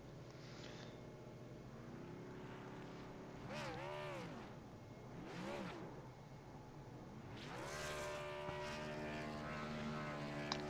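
A NASCAR Xfinity race car at Homestead does burnouts, heard as distant, rising and falling engine revs in repeated surges over a constant low drone, with commentary faintly underneath.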